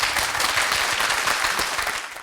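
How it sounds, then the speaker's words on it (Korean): Audience applause at a Korean TV job-audition show as contestants' scores are revealed, a dense burst of clapping that stays loud and steady before tapering slightly at the end. "여러분 박수 한번 부탁드릴게요"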